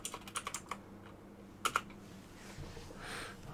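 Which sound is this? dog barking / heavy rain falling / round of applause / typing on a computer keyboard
typing on a computer keyboard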